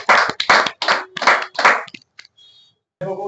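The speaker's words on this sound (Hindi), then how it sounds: "तालियां।" Applause for a poet at a Hindi poetry event: several short bursts of clapping with brief gaps, fairly close and loud, then a moment of near silence before a voice begins speaking.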